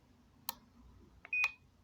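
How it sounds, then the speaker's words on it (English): A 1byone wireless doorbell being set up gives short electronic beeps while its mode is selected: a click, then a brief tone, quiet and close with no voices. "to get the mode, as you can hear, it peeps"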